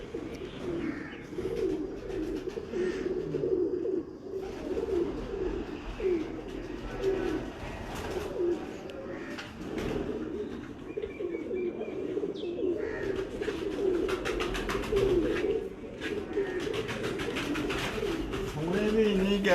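Breeder pigeons from Kasur coo repeatedly in a loft, soft rolling throaty calls layered over one another, with occasional chirps and background human voices and rustling.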